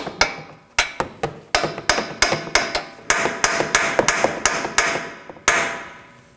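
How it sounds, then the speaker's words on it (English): A hammer taps a chisel wedged into the slot of a 2013-2019 Nissan Sentra front steering knuckle, splitting its ears for ball joint removal; about fourteen sharp metallic strikes in steady rhythm, close and loud, with no talking. "Now I'm going to take a chisel, insert it in the slot in the knuckle, and tap it with a hammer."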